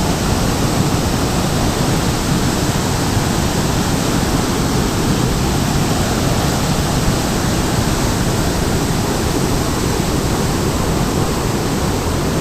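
Huge volumes of water released from Harike dam, where the Beas and Sutlej rivers meet, make a loud, unbroken roar of rushing water that fills the whole scene without pause.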